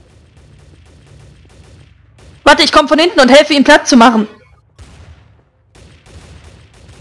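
A loud, fast burst of gunfire from several weapons, roughly two seconds long, in Garry's Mod Trouble in Terrorist Town. Someone speaks quietly before and after the shooting.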